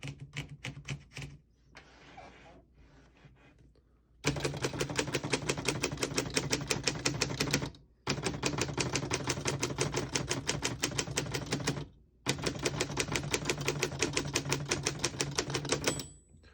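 Close 1933 Underwood four-bank portable manual typewriter keys clack in rapid, steady bursts, three long runs separated by brief pauses, with quieter handling before.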